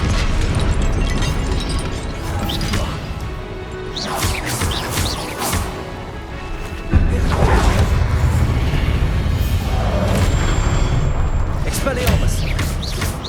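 Confringo fire-spell explosions from Hogwarts Legacy boom and crack amid dense combat noise, with a sharp heavier blast midway; a player keeps shouting spell names over the action.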